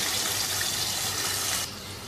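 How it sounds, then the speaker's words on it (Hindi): Half a cup of water pours into a pot of mutton curry, a steady splashing gush that stops abruptly near the end. "अब इसमें शामिल कर देंगे आधी प्याली पानी की।"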